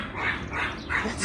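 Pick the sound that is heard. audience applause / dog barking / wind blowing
dog barking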